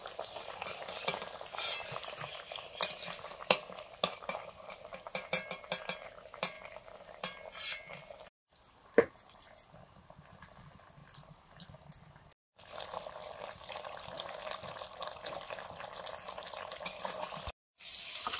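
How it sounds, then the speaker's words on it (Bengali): Onion and coriander leaves fry together with cauliflower in a pan, giving a steady close sizzle with repeated stirring scrapes, two short pauses partway through, and no talking. "এই পেঁয়াজ ধনেপাতা এগুলো একসঙ্গে ভাজা হচ্ছে তো"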